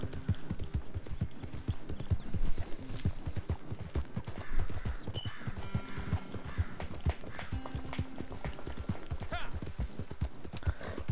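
Rhythmic hoofbeats from a ridden horse in Red Dead Redemption 2 clop along steadily and close at a brisk gait, with a brief whinny partway through and faint game ambience behind.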